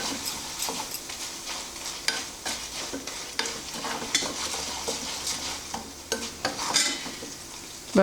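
Urad dal and turmeric fry in a pan for millet pidi kozhukattai, giving a soft sizzle broken by repeated scraping and clicking strokes of a stirring spoon, with no talk.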